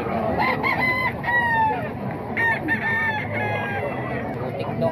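Roosters at a gamefowl seller's yard in Bocaue crow repeatedly, several overlapping cock-a-doodle-doo calls of moderate loudness, with faint clucking and background voices.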